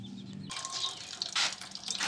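Water poured from a tap or container to refill drinking water for morning-fed birds, a steady splashing stream that starts abruptly after half a second and continues close and moderately loud.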